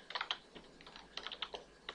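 A computer keyboard is tapped in a short burst while writing C++ pointer code, the clicks coming quick and uneven, close but quiet, with no speech.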